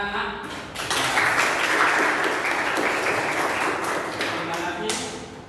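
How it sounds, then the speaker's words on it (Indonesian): Schoolchildren in a classroom guidance lesson clap together after poster drawings are praised, giving dense, close applause that swells quickly and holds for several seconds before thinning, with some voices underneath. "Sekarang adalah tepuk tangan anak-anak."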